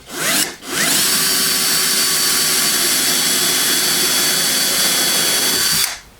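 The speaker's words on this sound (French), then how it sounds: "maintenant je perce mon trou" A power drill with a 4.5 mm bit bores a hole in wood: a short burst, a brief pause, then a loud, steady, close whine for about five seconds before it stops.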